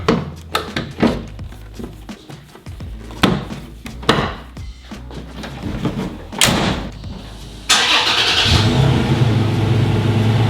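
A Toyota Tacoma tailgate swings shut with several sharp knocks and clunks, followed by a car engine starting and running steadily close by.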